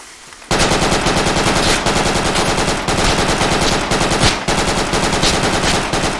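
Rapid automatic gunfire in the military shooter Project Reality, loud sustained bursts of machine-gun fire with brief pauses, starting abruptly after a quiet moment and continuing close by without voices.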